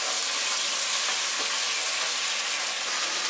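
Fat and juices from steak sizzle steadily in a pot while cooking for a keto steak soup, a dense continuous hiss heard up close with no talk.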